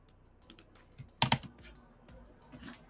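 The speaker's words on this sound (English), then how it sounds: "Let's do a little typing action." Short bursts of typing on a computer keyboard, a few scattered keystrokes with one sharp loud double click in the middle, close and otherwise quiet.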